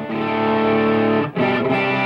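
Electric guitar run through two stacked gain pedals, a loud, thick, heavily distorted chord held with a brief dip before it is struck again, no voices.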